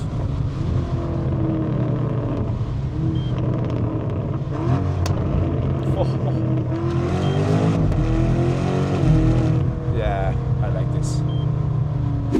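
A BMW M5 G90 with BERK downpipe and Akrapovic exhaust revs and accelerates steadily, heard from inside the cabin with a deep, continuous exhaust drone that rises and falls in pitch.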